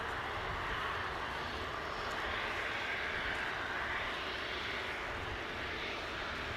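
A Ryanair Boeing 737 jet at Manchester Airport, a steady broadband engine roar holding at moderate distance throughout with no voices.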